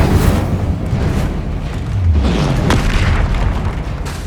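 Confringo blasting spell explosions in the Hogwarts Legacy game, loud rolling booms with deep rumbling bursts that overlap continuously.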